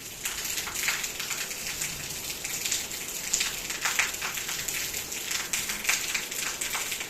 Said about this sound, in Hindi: बाहर तो काफ़ी अच्छी बारिश हो रही थी